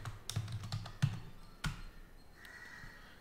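Keyboard typing in a terminal session, a quick run of sharp key taps followed by a firmer keystroke like Enter, close and fairly quiet with a faint tone lingering afterward.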